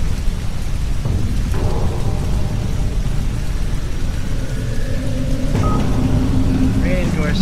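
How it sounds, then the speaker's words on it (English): Indoor rain and a crackling electrical storm aboard an alien ship in the video game Abducted, a steady wash of rainfall with rumbling discharge and a few brief tonal blips, continuous and loud. "Raining indoors and something above is generating mass amounts of electrical discharge. It's almost like a lightning storm."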